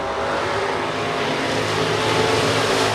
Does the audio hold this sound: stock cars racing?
yes